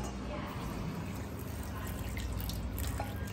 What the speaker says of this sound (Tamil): கிட்டத்தட்ட வந்து ஒரு ஒரு கிளாஸ் அளவுக்கு தண்ணி ஊத்திக்கலாம்.